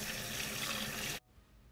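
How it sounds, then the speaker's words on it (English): Filtered water from a Berkey countertop filter pours steadily into a jar of cut radishes, a continuous close splashing trickle that stops abruptly after about a second, leaving quiet room tone. "I'm just covering these with water from my Berkey filter"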